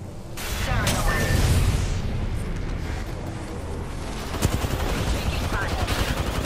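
Video game combat: bursts of automatic gunfire and booming impacts close by, dense and continuous, with voice callouts throughout.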